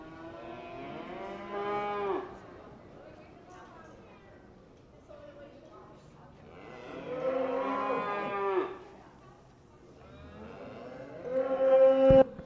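Cattle at a Shorthorn state open and junior livestock show give three long, drawn-out moos, spaced several seconds apart, fairly close and loud against a quiet arena background.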